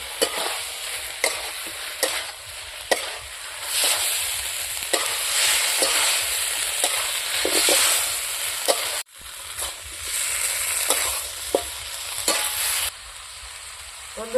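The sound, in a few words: cauliflower stirred and frying in spiced masala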